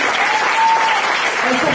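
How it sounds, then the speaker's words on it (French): An audience at a singing talent show claps steadily for a young singer, a loud continuous burst of applause with voices mixed in. "Je crois que ça aussi, ça s'applaudit."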